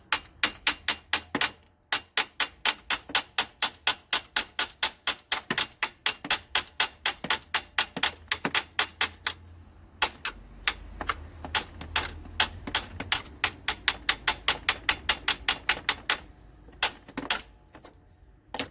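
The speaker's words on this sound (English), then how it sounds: "we are going to use a hammer, going to hit that" A hammer strikes the alternator bolt guide on a BMW engine, next to the radiator, in a long run of rapid, sharp metallic taps with a few brief pauses.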